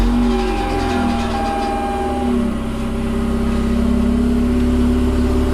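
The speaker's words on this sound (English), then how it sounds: "So you're gonna start up your handy dandy car." A Mazda RX8 rotary engine runs loud and close, holding a steady droning hum with slight rises and falls in pitch across the whole stretch, no voices over it.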